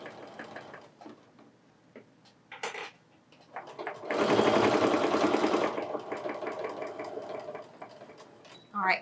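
A sewing machine stitches around the edges of a handbag with a quilting cotton or cork-and-canvas body, giving one loud, steady run of close mechanical whirring after scattered quiet clicks, with brief talk around it.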